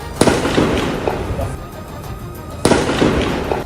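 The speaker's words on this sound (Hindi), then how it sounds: "इसी दौरान वहां से गोली चलने की तेज आवाज भी आई" Gunfire at a refugee camp in Jenin: two sharp, loud cracks about two and a half seconds apart, each followed by a noisy rumbling tail, against a busy background of outdoor commotion.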